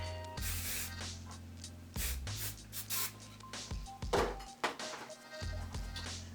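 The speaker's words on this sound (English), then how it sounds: "I'm just going to lightly mist the hair with this Palm Mitchell Super Extra Clean Hairspray" Paul Mitchell Super Extra Clean hairspray mists onto hair in several short hissing bursts, close by, over a low steady hum.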